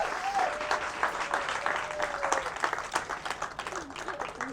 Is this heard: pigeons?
no